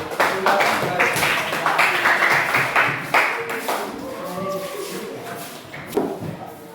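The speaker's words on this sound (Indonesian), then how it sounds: "Kita berikan tepuk tangan meriah terlebih dahulu." Students in a classroom clap for a presenting group, with lively applause at first that thins into scattered claps, shuffling and a few thumps, while voices talk through it.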